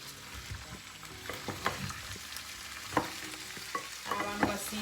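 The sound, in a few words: stirring potatoes with onion in a pot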